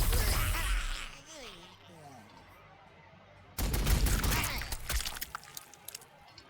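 Burst of gunfire aimed at Gretchen in Warhammer 40,000: Sanctus Reach, a sudden cluster of sharp cracking shots after a quieter stretch with a voice, then trailing off.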